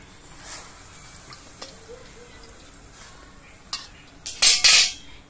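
Gourd stems and cut vegetables (potato, eggplant, papaya) go into a wok with water for a gourd-leaf dish, giving a few sharp clattering scrapes near the end after quiet kitchen noise.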